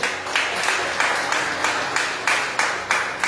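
Steady applause from a church congregation, a continuous wash of clapping with rhythmic pulses roughly every third of a second, as if people clap in time.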